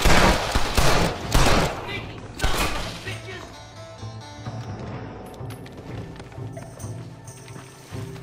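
Gunfire in the Western video game Red Dead Redemption: a few loud, sharp bursts of shots in the first seconds, then quieter mechanical clatter and hoofbeat-like clopping that fade out.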